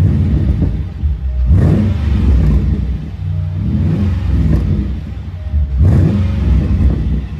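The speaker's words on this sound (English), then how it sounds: "let's give it a bit of a rev. You can hear it." A Jaguar XK X150 5.0 V8 coupe revs repeatedly in loud, deep surges, roaring up and settling back between bursts, close by with no talking.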